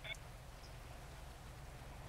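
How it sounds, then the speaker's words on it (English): Rain falls steadily in a GTA FiveM roleplay game, a faint continuous hiss with a low rumble underneath and a few brief higher ticks near the start, heard alone. "It's a tad bit cold with the rain."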